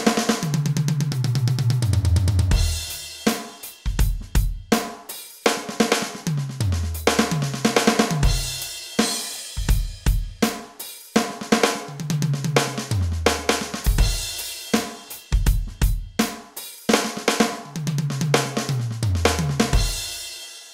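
Drum kit playing sextuplets, six notes per beat, in fast rounded rolling phrases moving around the toms with deep descending fills, each run punctuated by cymbal and bass drum hits, close and loud with no talk.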